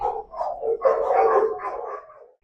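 A shelter dog at Pima Animal Care Center barks repeatedly at close range, a quick string of several loud, rough barks running together before stopping abruptly.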